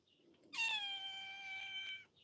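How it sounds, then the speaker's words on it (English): A single long, drawn-out cat meow, close and clear, holding steady for over a second against a quiet background. "You saying a meow, meow?"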